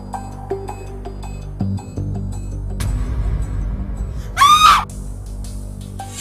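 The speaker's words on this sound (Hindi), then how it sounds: "चीख की आवाज आई थी कमरे से।" A sharp scream rings out from a room indoors, one brief loud burst standing out over quieter tonal background sound.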